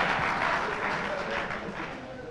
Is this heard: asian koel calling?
no